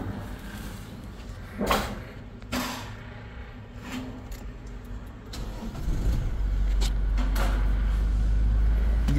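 Diesel Toyota GR Fortuner 2025 being started after fuel pump and fuel filter replacement: a few clunks and handling noises, then the engine catches and settles into a steady low idle that continues to the end, with no talk.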